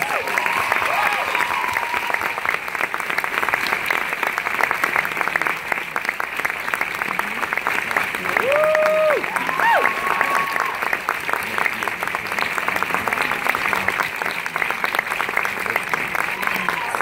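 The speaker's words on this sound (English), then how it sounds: "please give them another round of applause" Sustained audience applause at a film festival world premiere screening, dense and steady throughout with a few brief whistles and cheers rising over the clapping.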